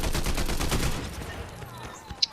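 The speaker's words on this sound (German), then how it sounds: "Die haben beide mit einem Salvengewehr auf mich gespammt." Rapid bursts of burst-rifle gunfire in the video game Fortnite, loud and dense through the first half, thinning to scattered shots and a final sharp crack near the end.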